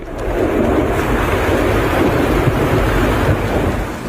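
Heavy rain pours in a steady, dense roar with a deep rumble of thunder underneath, continuous and loud throughout with no voices.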